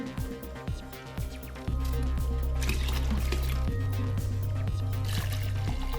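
White vinegar pours into a container for a fabric dye mix, a liquid stream that swells and runs steadily with a rising tone as it fills, under faint background noise.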